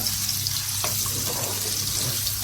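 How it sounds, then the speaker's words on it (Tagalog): Garlic frying in melting butter in a pan, a steady soft sizzle with a low hum beneath it, continuous and fairly close for the whole stretch, no voices. "Lagyan na natin bawang para niluluto na siya. Habang natutunaw yung butter."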